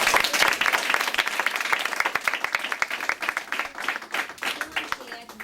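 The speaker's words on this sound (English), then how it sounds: "So we applaud you." An audience claps for students in a steady wash of applause, individual claps audible, gradually thinning and tapering toward the end.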